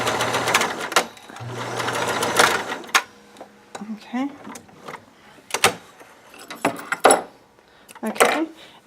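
Sewing machine stitching a French seam, including a reverse stitch: short bursts of needle clatter and motor whir, close by, broken by pauses, clicks and handling noises, with someone talking over parts of it.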